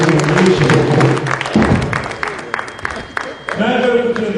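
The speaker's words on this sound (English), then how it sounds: "Another one round of applause for the chairman of the House Committee on Aviation." A hall full of guests at a presidential reception applauds the chairman of the House Committee on Aviation, with loud, continuous clapping mixed with crowd voices and amplified speech.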